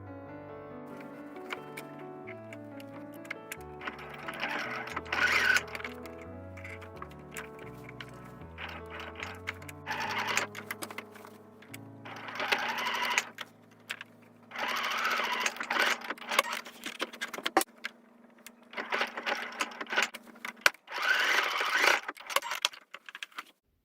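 A sewing machine stitches around three sides of a pocket on a baseball hat. The motor runs in repeated whirring bursts, broken by short pauses and clicks.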